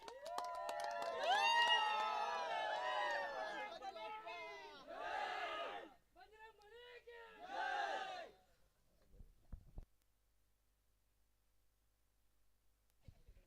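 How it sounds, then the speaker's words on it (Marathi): Crowd cheering and shouting for the Jai Bajrang Kolthan team at a tournament prize distribution ceremony, Jai Vetaleshwar Cup, Koravale: loud, sustained massed voices in bursts, fading into quiet with a few scattered knocks. "एकदा जोरदार टाळ्या जय बजरंग कोलठण संघासाठी"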